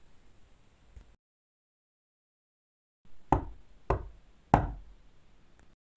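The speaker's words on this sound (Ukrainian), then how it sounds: "Хто це стукає до нас?" Knocking at a door: a faint tap early on, then after a silence three loud, distinct knocks spaced about half a second apart, close and sharp, with no talking.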